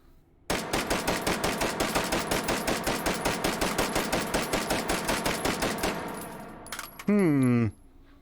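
A B&T APC carbine fitted with a muzzle brake, fired in the virtual reality game H3VR: a rapid, sustained burst of around thirty evenly spaced close shots, followed by a few metallic clatters and a ringing mechanical clack.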